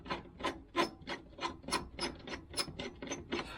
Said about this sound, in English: we're going to go ahead and unscrew this to loosen this clamp